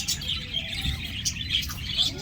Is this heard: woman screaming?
no